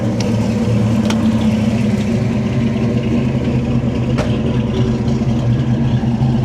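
A car with upgraded heads, cam and intake runs with a steady, loud, lumpy engine drone heard from inside, holding an even tone with a few faint clicks and no speech.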